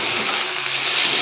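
Pointed gourd (potol) fries in spices in a pan, giving off a dense, even, loud sizzling hiss that holds steady throughout the brief moment with no talking.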